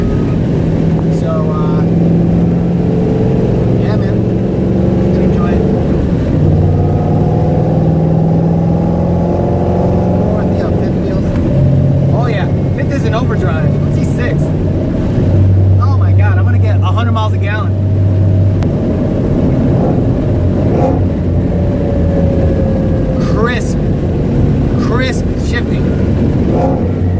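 A car with a T56 manual transmission and Mantic clutch driving fast in second gear, a loud steady engine and drivetrain drone with shifting tones throughout, someone talking over it.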